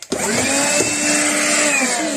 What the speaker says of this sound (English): This is a battery hoover, Matika.